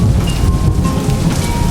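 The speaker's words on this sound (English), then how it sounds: "During this season, we experience showers of rain that help plants grow and keep everything fresh." Steady rain shower with deep low rumbling of thunder, a dense continuous wash of drops filling the short stretch without any voices.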